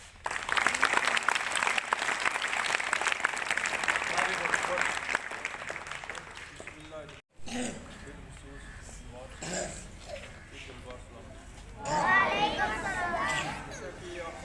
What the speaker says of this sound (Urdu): میں چاہتا ہوں کہ سر نعمان کے لیے تھوڑی سی تالی ہو